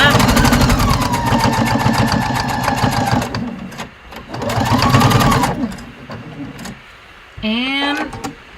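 A sewing machine stitches a sleeve hem in bursts, running steadily for about three seconds, pausing, then running again, with a short whirring burst near the end; a person talks over parts of it.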